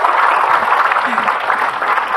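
An audience claps for a preacher at a religious talk show taping, a short burst of crowd applause mixed with a speaking voice.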